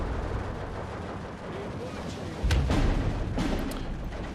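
Mortar rounds thud in a WW2 Soviet campaign battle at Tiraspol in Steel Division 2, a heavy low impact midway through over a bed of distant battlefield rumble and scattered shots.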